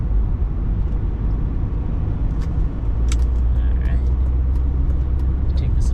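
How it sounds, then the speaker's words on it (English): Steady road traffic rumble surrounds a car during a morning commute in heavy traffic near 8 a.m., with a constant low engine and tyre drone and a few faint higher clicks and squeaks over it. "A lot of traffic."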